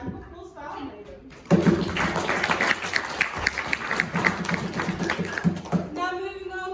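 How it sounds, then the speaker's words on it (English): A crowd at a Māori cultural show applauds the maidens. The clapping is sustained and dense and breaks in loudly after a spoken introduction, with a voice resuming at the end. "How about a round of applause for our maidens?"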